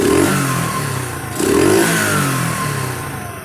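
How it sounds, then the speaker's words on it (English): A Phatmoto Sikk Ped motorized bicycle engine revs twice, each throttle blip rising and falling back to a rough idle, close by and loud. "Let me give it a couple of revs."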